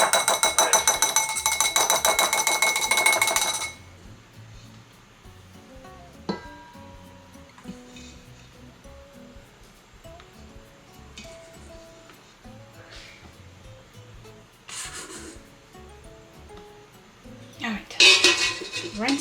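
Mixing bowl handled in a kitchen while baking a chocolate marble cake: a loud burst of clattering and clinking for the first few seconds, then quieter scattered knocks and clinks, with another splashy clatter near the end.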